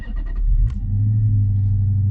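A manual Dodge Challenger's engine cranks with a few rapid starter clicks, catches with a sharp burst, then settles into a deep, steady idle rumble, close and loud with no talking.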